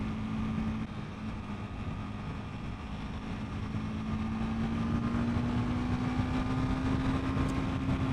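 A 2021 Honda CBR300R motorcycle on the road gives a steady engine drone with a single tone that rises slowly in pitch, under broad wind rush, continuous and without speech.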